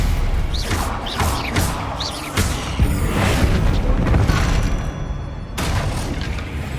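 A Stupefy spell cast in the video game Hogwarts Legacy amid combat, with loud booming impacts, whooshing bursts and crashing thuds following one another through a busy battle.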